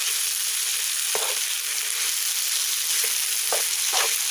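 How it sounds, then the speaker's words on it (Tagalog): Bitter gourd sautéed in a pan is stirred over steady frying sizzle, with a few brief utensil scrapes and clacks scattered through, no talking. "Mix it well, guys."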